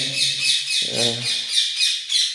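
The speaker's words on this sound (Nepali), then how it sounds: "कस्तो मिठो चराको आवाज हो" A bird squawks repeatedly in a steady rhythm, loud and close, with a brief low hum partway through.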